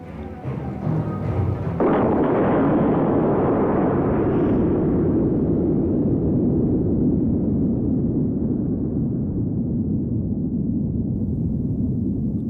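Soviet atomic bomb explosion, a high-altitude nuclear test south of the Ural Mountains, heard as a deep, sustained roaring blast that swells suddenly and then rumbles on steadily for about ten seconds, loud and unbroken.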